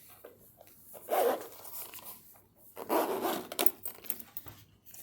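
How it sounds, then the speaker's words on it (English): A zipper pulled around a Louis Vuitton Fortune Cookie Bag, two close bursts of rasping zipping with soft handling noises between them, no talking. "And you can zip it around"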